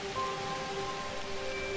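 Steady rain falling in The Universim, a god-game simulation, with an even wash of patter and faint tonal game ambience running throughout, no voices.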